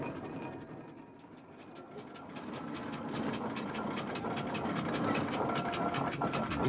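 Steam engine working at the Welland Steam and Country Rally, a rapid regular chuffing and mechanical clatter that grows slightly louder over several seconds amid outdoor background noise.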